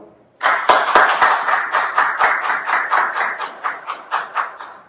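Church congregation clapping in acclamation after the Gospel reading: a burst of dense applause that settles into a steady rhythmic clap, close and loud, gradually thinning toward the end.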